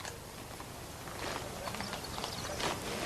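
Horse hooves clip-clop in a Western-style TV scene, a scattered, busy patter of hoofbeats under a noisy wash of ambient sound, moderately loud and with no voices.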